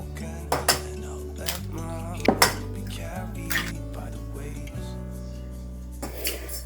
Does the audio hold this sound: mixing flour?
yes